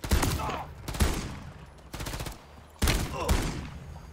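Shotgun blasts fire in Call of Duty Modern Warfare 3, four sharp booming shots spaced roughly a second apart, each trailing off with a short echo.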